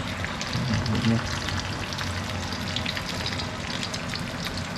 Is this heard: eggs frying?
yes